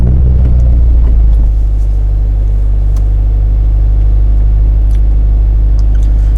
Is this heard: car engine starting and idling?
yes